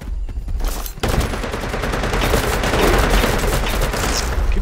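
Sustained rapid gunfire from the video game Predator: Hunting Grounds, a loud, dense fusillade of overlapping automatic shots that starts abruptly and continues without pause.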